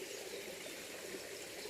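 A small stream in a forest in Indian summer spills over little cascades, a soft, steady rushing trickle with a continuous, faint watery hiss and no voices.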